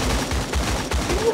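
Rapid automatic gunfire in an online shooter video game, a quick string of evenly spaced shots that rattle on steadily and fairly loud for about a second, with no voices over them.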